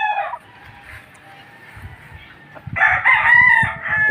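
A Sweater Kelso gamefowl rooster on a farm lets out one loud, close crow near the end, after a stretch of quieter background noise.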